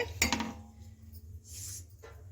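A spoon stirs semolina (rava) in a pot of water, making a brief metallic clink followed by soft scraping and swishing against the pot, faint and close.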